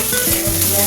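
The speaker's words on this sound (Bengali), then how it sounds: "এখন আমি এই পেঁয়াজ, রসুন, লঙ্কা আর আদাটা যে কেটে রেখেছিলাম ওটা আমি দিয়ে দেবো।" Chopped onion, garlic, chilli and ginger fry in a pan of hot oil for aubergine bharta, giving a loud, close, continuous sizzle with a few low stirring bumps and no talking.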